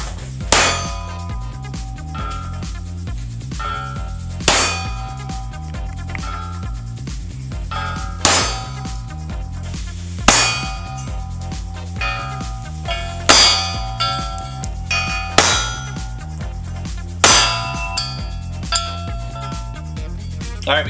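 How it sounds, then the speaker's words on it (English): 9mm rounds fired at a DMO knife blade, edge-on by its length. About nine sharp, loud reports, each followed by a ringing metallic clang, come spaced a few seconds apart. "We're shooting the DMO knives blade length first"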